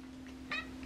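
A house cat gives a single short meow in a quiet room at home, faint and brief against a low steady hum.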